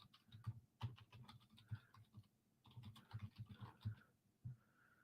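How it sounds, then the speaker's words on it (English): Typing on a computer keyboard, with quick close key clicks in two steady bursts separated by a short pause, quiet and with no voices. "Type this in the banner here."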